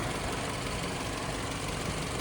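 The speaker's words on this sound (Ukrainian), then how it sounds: "Двигунчик просто шепче." A 2017 BMW X1 xDrive28i's 2.0-litre petrol engine idles quietly and steadily, a low even rumble with no voices over it.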